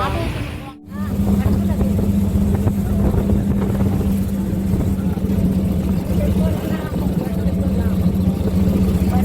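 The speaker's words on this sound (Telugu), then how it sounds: "ట్రాఫిక్" A steady engine drone of road traffic hums throughout, with a brief dip near the start, while people talk over it.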